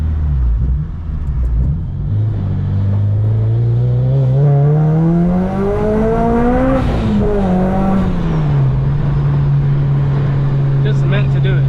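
A 350 hp supercharged Honda Civic Si sleeper build drones loudly from inside the car on a drive, the engine note climbing as it accelerates, dipping briefly, then settling into a steady rumble with a brief whine near the end.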